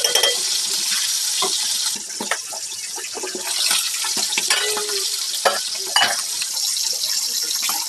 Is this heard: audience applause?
no